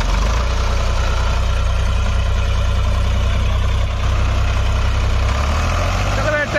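An HMT 3522 tractor engine runs in a wet, muddy field, a loud, steady low diesel throb that continues without a break, close by and filling the whole stretch.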